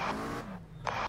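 A race car alongside on the right in a racing video game at Nogaro, two quick bursts of engine roar and tire noise separated by a brief lull.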